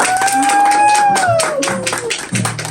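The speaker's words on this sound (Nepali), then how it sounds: "ताली बजा" People at a birthday celebration clap in quick, uneven bursts while voices talk and sing loudly over the claps.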